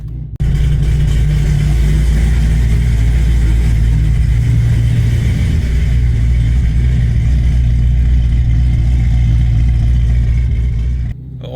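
A Cadillac CTS-V drives along a road with a loud, deep engine drone that holds steady and builds under acceleration for several seconds from inside the car, with no talking.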